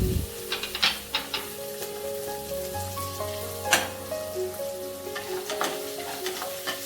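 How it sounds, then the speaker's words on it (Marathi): Carrot, capsicum, peas and beans frying in a pan, a steady sizzle broken by sharp clinks and scrapes of a utensil stirring, close and moderately loud with faint background hum. "या सर्व भाज्या 2 मिनिटं व्यवस्थित फ्राय करून घ्यायच्या आहेत"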